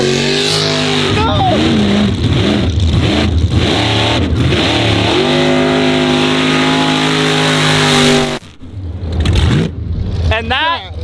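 Off-road Corvette engine revving hard on sand dunes, loud sustained roar with rising and falling revs, a brief drop near the end before it revs again, with excited voices over it.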